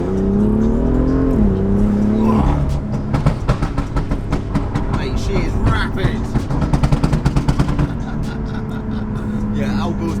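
A BMW M3 F80 with a DCT gearbox accelerates hard from traffic lights, its engine note climbing loudly through rapid gear changes with sharp crackles near the end, while people talk over it.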